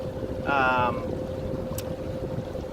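A boat engine hums steadily while running on the Ortega River during a speed trial, a constant drone with wind noise, and a brief voice rises over it early on.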